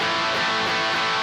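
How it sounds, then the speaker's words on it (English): A single distorted electric guitar power chord rings out loud and sustained, thick and buzzing, with no voices. "So a regular A5 sounds like this."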